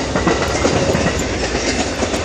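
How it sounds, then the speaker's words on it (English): A train rolls past a large park with trees and a lake, its steady rumble and clickety-clack of wheels loud and continuous throughout. "There's also a train."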